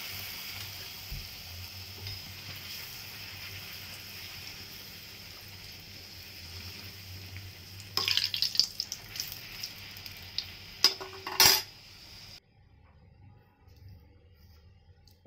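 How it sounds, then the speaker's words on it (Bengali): Rolled luchi frying in hot oil in a kadai, with a steady close sizzle and bursts of louder bubbling and spattering as the dough is added and stirred, before the sound drops away. "ওই একইভাবে সব লুচিগুলো আমি ভেজে নিব।"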